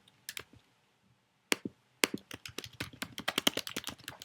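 Keys clatter on a computer keyboard, a few scattered taps and then a quick burst of close, light typing, with no speech.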